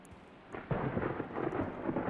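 Thunder from a thunderstorm rolls in as a deep, broad rumble that swells after a quiet start and keeps grumbling steadily, moderately distant, with no voices.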